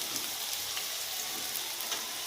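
Meat for bhuna khichuri frying in a pan, a continuous close hissing sizzle with faint crackles, steady and even, with no voices.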